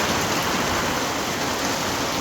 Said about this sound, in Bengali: বলতে না বলতেই বৃষ্টি শুরু হয়ে গেছে